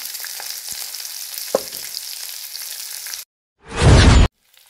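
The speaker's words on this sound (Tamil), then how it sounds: "நல்லா பொரியட்டும். வெங்காயம், கருவேப்பிலை, கொஞ்சம் பெருங்காயத்தூள்." Onions, curry leaves and asafoetida fry in a pan, a steady close sizzle with faint stirring clicks, then a brief pause before a loud, sharp surge of sizzling.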